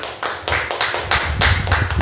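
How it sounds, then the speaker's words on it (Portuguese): A church congregation claps in a close, rhythmic pattern, sharp hand strikes falling in regular beats roughly every quarter second, loud and near with no talk. "Um aplauso ao Senhor pela vida dele."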